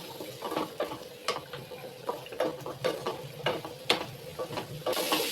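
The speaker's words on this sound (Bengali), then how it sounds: "এবার এই মশলাটা একটু ভালো করে কষিয়ে নেবো।" Spice masala of chilli, coriander powder, cumin and garam masala cooking in a pan, stirred with repeated scraping strokes over a soft sizzle, close and moderately loud, no speech.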